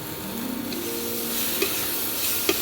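Tomato masala for a Bengali kachki fish curry frying in oil with a pinch of chaat masala added, a steady close sizzle and hiss with soft stirring scrapes and a couple of brief clinks.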